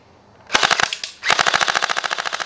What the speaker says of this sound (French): on secoue un peu en arrière, on réarme et on tire